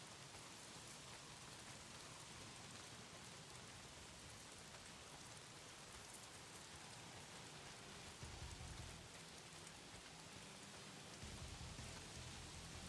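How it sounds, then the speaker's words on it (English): Heavy rain pours in a video game, a steady dense hiss of drops falling on surfaces, faint and continuous, with low rumbling swells near the end. "Not if it's pissing down rain."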